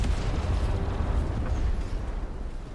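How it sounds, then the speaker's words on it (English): A crawler vehicle in SAND: Raiders of Sophie is blown up by cannon fire, giving a loud, rumbling explosion that fills the moment alone and slowly tails off. "Did you just blow up my crawler?"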